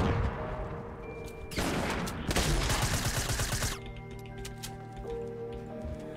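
Gunfire in the Fortnite video game, heard as dense, loud crackling bursts of shots lasting a couple of seconds, with quieter game sounds before and after.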